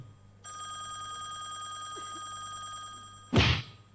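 A telephone rings steadily and close for about three seconds, then a short loud burst of noise cuts in near the end.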